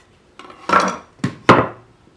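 A hand plane fitted with a Rob Cosman grip is pushed across wood end grain on an MDF shooting board, giving three short, close shearing swipes, the last two sharp and quick.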